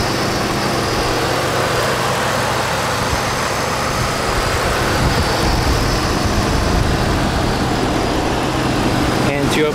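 A Ford 5.0 engine running steadily, a loud, close, continuous low rumble that holds even for about ten seconds, with a brief sharp noise at the very end.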